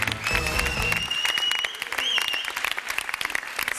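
Game show studio audience applauds a finalist couple, a loud, dense burst of clapping with a brief musical tone near the start and a rising whistle-like sound midway.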